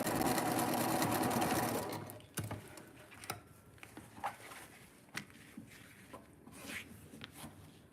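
A sewing machine runs fast and loud for about two seconds while it stitches the sides of a quilt block. Quieter clicks, fabric rustles and handling taps follow.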